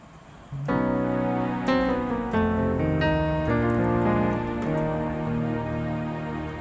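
Piano chords walking downward step by step, each struck chord ringing into the next, played alone at a steady moderate pace.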